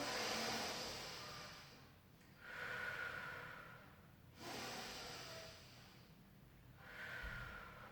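Deep breaths drawn in and let out during a pilates mobility stretch, several slow, close, airy inhales and exhales in a steady rhythm with no talking.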